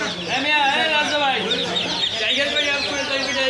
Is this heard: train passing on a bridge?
no